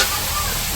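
Meat with ground spices and garam masala sizzles in a hot pan, a steady close hiss that lasts the whole brief moment.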